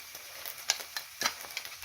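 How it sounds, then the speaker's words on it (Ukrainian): Soft crackling sizzle from tomato paste frying in a pan, with a few sharper spits and pops, close up and fairly quiet, no talking. "І тепер отак на середині трошечки посмажу його."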